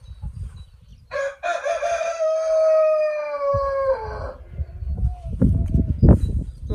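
A rooster crows loudly in a backyard, a long rising and falling call that trails off, followed by scattered clucking and shuffling from the flock nearby.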